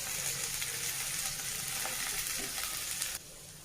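Telangana-style dappadam frying in a pan gives a dense, close hiss of sizzling with faint stirring, then drops abruptly to quieter frying just before the end. No voices.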